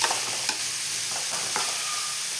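Chopped onions sizzle and fry in hot oil in a pan, with a steady close hiss and a few soft stirring scrapes, no voices.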